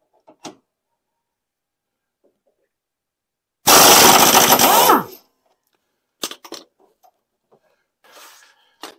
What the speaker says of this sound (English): we're going to need the big impact gun